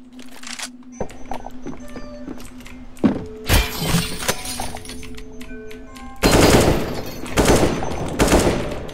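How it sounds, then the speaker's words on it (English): Bursts of rapid automatic gunfire and sharp shots from a Minecraft shooter mod ring out, loud and close, in clusters separated by short pauses, with a sustained hum under the quieter stretches. "Somebody shooting a bunch of shit"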